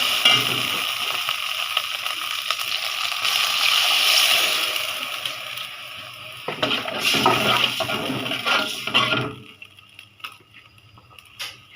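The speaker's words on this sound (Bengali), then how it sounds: "এখানে একটু পানি দিয়ে দিবে এখন" Water goes into a pan of frying chicken and long beans and hisses loudly, then the steady sizzle drops away sharply near the end, followed by scattered faint clinks.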